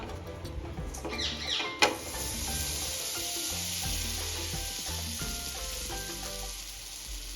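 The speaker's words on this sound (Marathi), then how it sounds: "आता आपल्याला छान गोल्डन कलर येईपर्यंत सँडविच रोस्ट करून घ्यायचा आहे तव्यावर" A potato masala sandwich toasts on a hot tawa with a steady, close sizzle that holds throughout, broken by one sharp knock early on as it is handled.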